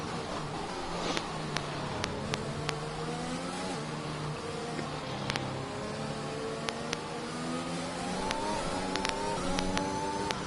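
Formula 1 race cars in F1 2021 drone through a steady engine tone, pitch sweeping up and down with gear changes as several cars run close together, with faint clicks scattered on top.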